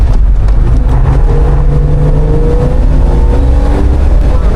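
A daily-driver vehicle on an off-road rally pulls off the pavement onto a gravel road, giving a loud, close, steady engine drone with rumbling road noise and a rising engine tone, and no talking.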